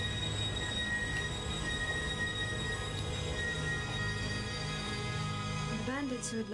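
Train rolling on rails in the video game The Last Express, a steady rumbling run with a sustained metallic wheel squeal and humming tones, ending in a short rising squeal.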